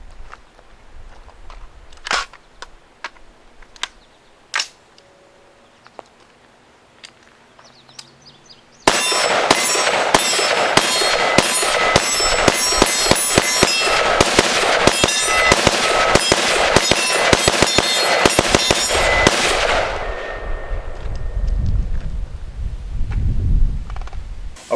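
A Barnes Precision Machine CQB SBR rifle gets a magazine change: sparse sharp metallic clicks and clacks of handling, then a long run of rapid, loud gunshots that stops abruptly.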